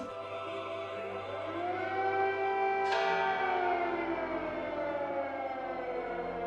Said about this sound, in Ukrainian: Навіть під сигнал повітряної тривоги в Києві триває служба.